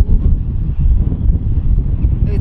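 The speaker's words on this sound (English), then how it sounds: "wind is picking up" Strong wind buffeting a DJI Mavic Air drone's microphone during a high-wind flight over a town riverside, a loud, continuous low rumbling roar without pauses or voices.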